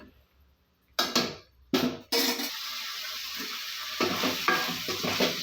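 Vegetables sizzle in a hot pan as a spoon stirs and scrapes them, the frying hiss swelling after a few opening clatters.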